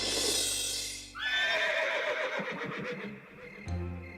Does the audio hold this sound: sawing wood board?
no